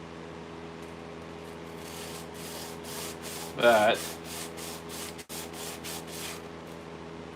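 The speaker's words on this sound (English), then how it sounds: "I'm just going to run it on a piece of sandpaper" Rhythmic back-and-forth scraping of cast aluminum rubbed across sandpaper, steady strokes with a brief squeak and a short spoken word.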